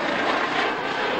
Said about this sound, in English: Gladiator, the last biplane fighter of the Royal Air Force,